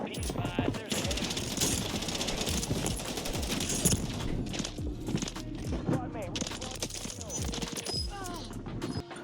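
Rapid automatic gunfire bursts and clattering shots crackle through a close-range Warzone fight against several players, loud and dense throughout, with talk over the gameplay.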